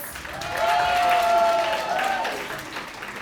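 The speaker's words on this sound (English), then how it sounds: "Can you please give Pinda a round of applause?" Audience applause after a performance at a Women's Month celebratory dialogue, a steady wash of clapping that swells and holds for a few seconds, with a sustained tonal note running beneath it.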